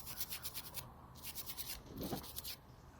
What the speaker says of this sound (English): Now take your contact cleaner, just give it a scrub.